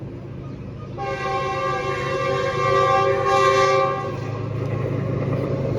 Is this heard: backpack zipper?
no